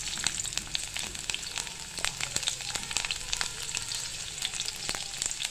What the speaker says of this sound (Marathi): हा जो उभा चिरलेला आपला लसूण आहे तो आपण टाकतोय तेलामध्ये